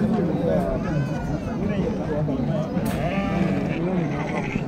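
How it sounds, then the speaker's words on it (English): Sheep bleat repeatedly at a busy village market, heard amid steady crowd chatter and people talking nearby. "Have you seen the sheep that was purchased from the market?"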